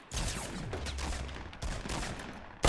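Rapid bursts of gunfire in Fortnite Battle Royale, a quick series of sharp cracking shots near and loud, followed by a brief pause and one more abrupt shot at the end.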